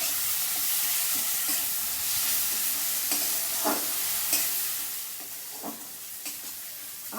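Chilli powder and spices fry in a hot pan for a ridge gourd curry, a steady close sizzle with occasional scraping stirs of a spoon, no voices.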